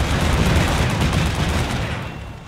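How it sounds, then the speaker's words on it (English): Artillery fire in the CMCW war game, a dense barrage of overlapping booms and crackling blasts forming a loud continuous rumble that fades slightly toward the end. "more artillery left. Just getting hammered now."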